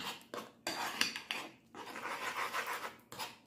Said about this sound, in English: we're just gonna scramble these, slowly, and just enough until they are solidified